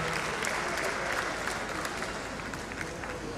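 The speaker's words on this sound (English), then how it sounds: "A round of applause for the University of Ilorin and the Federal University of Technology" Steady, dense applause fills a hall at a university graduation ceremony, with a large audience clapping continuously and evenly at moderate loudness.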